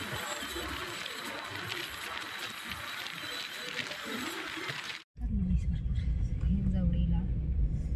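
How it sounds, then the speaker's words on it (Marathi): Pune road traffic heard from inside a moving car: a steady road and engine rumble with broadband hiss, which cuts off abruptly and gives way to a quieter, muffled cabin hum with a low drone. "बघ ना पुण्यात बघा आम्हाला किती ट्रॅफिक लागलंय"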